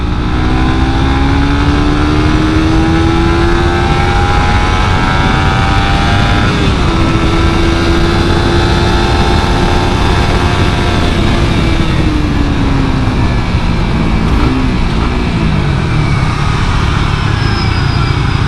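A Suzuki GSX-R150 2017 sport motorcycle engine roars steadily while riding, its pitch rising and falling as it accelerates and eases off, loud and close with wind rushing throughout.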